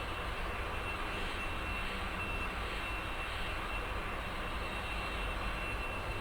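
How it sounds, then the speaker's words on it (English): A fighter jet engine in a flight simulator game gives off a steady, even roar with no breaks, heard on its own. "but it's a fighter jet."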